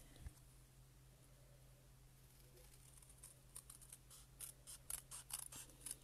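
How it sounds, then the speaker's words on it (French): Scissors cut a straight line through a paper card, giving a quiet run of crisp, rapid snips that thicken toward the end over a faint hum. "on va couper droit au ciseau"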